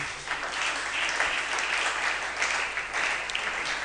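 A church congregation claps in acclaim of the Lord, a steady, even wash of applause from many hands that holds throughout without pause.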